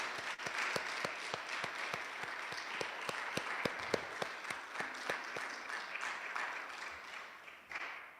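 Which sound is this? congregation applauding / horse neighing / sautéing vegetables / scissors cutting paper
congregation applauding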